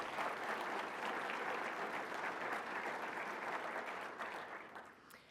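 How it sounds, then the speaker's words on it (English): An audience at the Sustain Dane Summit 2025 welcome and keynote gives a round of applause. Thick, continuous clapping stays strong for several seconds, then thins and fades toward the end. "let's give a round of applause to our food scrap and powerful teen leader team members"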